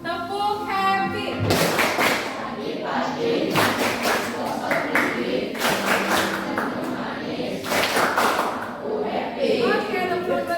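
Group performing the 'tepuk happy' clap chant in a classroom session, voices chanting together over sharp rhythmic bursts of claps and thumps, close and lively, with brief talking at the start and end.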